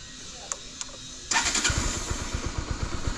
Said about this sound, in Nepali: बाइक रेडी भएर बसिरहेको छ। ल अब एक स्टार्ट हान्नुपर्ने हुन्छ।